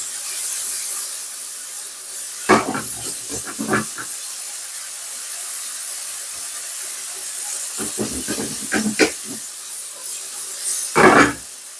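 Seasoned okra sweats in a hot pan, giving a steady close hiss of steam broken by three louder bursts of sizzling and crackle, with no talking.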